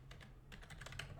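Computer keyboard typing a search term, several bursts of quick, light key clicks close by over a faint low hum, with no voices.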